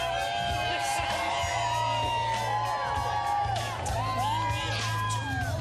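Outdoor crowd in Manhattan on an early fall morning, cheering, whooping and yelling steadily throughout at a distance, with music faintly in the background and no speech.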